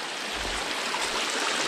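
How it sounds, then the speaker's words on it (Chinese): A clear, shallow mountain stream flows with a steady, even rushing and burbling that stays at the same level throughout, with no voices. "我这溪水 很清澈"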